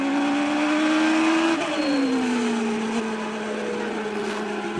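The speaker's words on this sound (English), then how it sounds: "Listen to the sound of the engine." Formula 1 race car engine at the 1994 Spanish Grand Prix, a loud, near, steady high-pitched whine that drops sharply at a gear shift and then slides lower as the revs fall.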